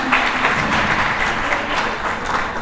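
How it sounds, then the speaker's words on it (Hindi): Applause at a school art festival for trophy-winning paintings, a steady wash of many hands clapping together at moderate loudness, continuous throughout the short stretch. "एक बार जोरदार तालियां।"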